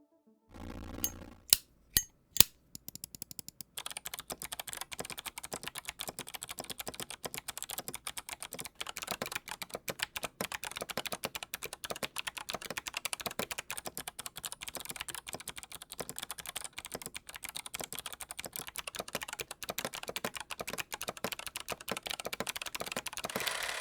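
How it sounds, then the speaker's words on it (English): An NCR-80 keyboard fitted with Zeal Clickiez and Kailh Box White clicky switches. A few isolated keystrokes give way to fast, continuous close-up typing, a dense run of crisp clicks with no speech. "Check out the comparison between the Zeal Clickiez and the Box Whites on the NCR-80."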